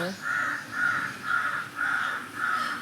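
Crows cawing in a regular series of about six harsh calls, moderately close, with quiet background noise and a faint voice at the very start.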